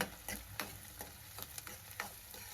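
Curry leaves and green chillies fry in hot oil for a fish curry, giving a steady crackling sizzle broken by several sharp stirring scrapes at a regular pace; the sound is close and fairly quiet, with no talking.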